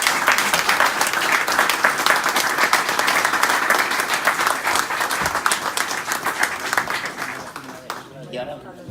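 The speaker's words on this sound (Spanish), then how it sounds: "yo quiero brindaros como despedida este aplauso para todos vosotros" Audience applause at a book presentation, a dense burst of clapping that gradually thins and dies away near the end, followed by a brief voice.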